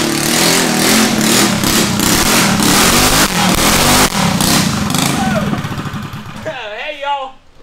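A mini bike's small engine revs hard nearby in loud, rough bursts that taper away, with someone speaking briefly as the engine dies down.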